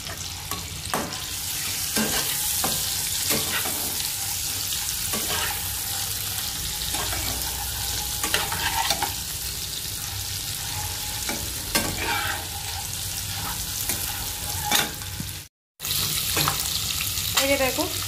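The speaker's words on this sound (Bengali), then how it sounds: "এই যে দেখো ডিমগুলোকে আমরা এখন ভেজে নিচ্ছি।" Eggs frying in a mix of oil and butter, scored and lightly salted, give a steady close sizzle with scattered crackles and a few spatula scrapes, broken by a brief dropout near the end.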